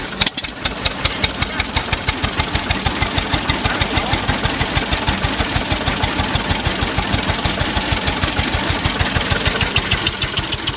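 An old single-cylinder marine and stationary engine, kerosene-fuelled, water-cooled with magneto ignition and rugged cast-iron build, runs steady at low revs. Loud, even, rapid thumping beats continue without break.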